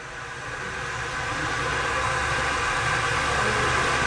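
An ST-840 spin rinse dryer spins substrates to sling water off, giving a steady, loud whirring drone that builds slightly and holds evenly throughout.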